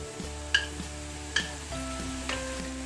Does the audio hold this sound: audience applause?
no